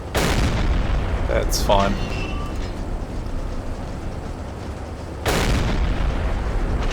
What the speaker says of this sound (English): most of the shells seem to be going long